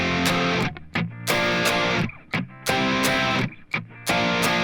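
Heavily distorted electric guitar strums major barre chords from a song in loud, sustained blocks broken by brief choppy gaps, played alone and close.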